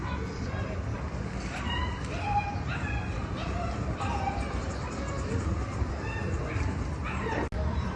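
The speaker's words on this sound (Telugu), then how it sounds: "Shih Tzu try colour male puppies" Tri-color male Shih Tzu puppies giving scattered high yips and small barks, close by, with a person talking over them throughout.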